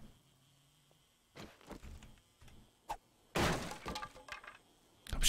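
A wooden crate smashed in the survival game 7 Days to Die: a few soft knocks, then a loud splintering crash with rattling debris, followed by another sharp hit at the end.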